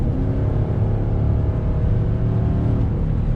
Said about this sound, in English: Let's step on a throttle.